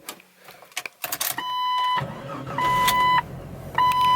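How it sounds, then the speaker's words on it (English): A Jeep Cherokee XJ's power window runs down with a steady electric motor whine, pausing and restarting in a few stop-start bursts after some clicks and handling noises. "Auto window down on this side. You can push it and stop it."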